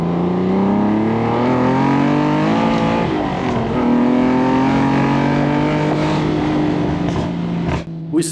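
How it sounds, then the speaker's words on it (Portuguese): TVR Tuscan engine revving hard and loud, a sustained rising and falling roar with crackling pops at the rev limiter near the end, close and continuous without any talking. "O estalo no corte de giro ali, não tenho certeza se sou muito fã disso, mas tirando isso, o som é incrível, embora seja muito, muito alto"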